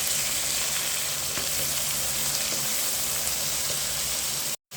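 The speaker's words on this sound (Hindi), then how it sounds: "और अच्छी तरीके से मसाले की भुनाई कर लेंगे" Masala of coriander powder and salt roasting in a pan for an arvi curry, a steady broadband sizzle and crackle throughout with a few faint stirring clicks, cutting out briefly near the end.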